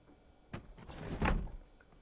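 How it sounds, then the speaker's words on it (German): A window sliding shut in the zombie survival game Project Zomboid, a soft knock followed by a longer rolling scrape that ends in a dull settling thud, close and fairly quiet. "Fenster schließen."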